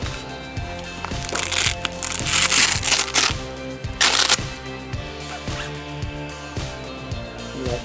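A pull-out rear drag handle is ripped out of a 5.11 tactical bag inside a store, producing loud, harsh tearing rips in several bursts over a steady background beat.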